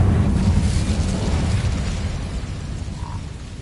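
A loud burst of fire from the Incendio spell in Hogwarts Legacy, a broad rumbling explosion that starts at full strength and slowly fades over a few seconds with no voices.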